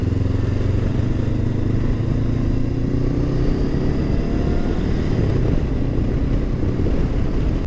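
Steady engine drone of a Honda CB500X motorcycle under way on a road trip, with harmonic bands that shift as speed changes and constant wind rush; continuous and close, with no talk.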